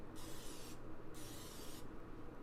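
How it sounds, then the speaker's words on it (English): Two short hissing bursts of an aerosol olive oil cooking spray onto a muffin pan, close and clear, separated by a brief pause, with no talking. "This is some olive oil spray."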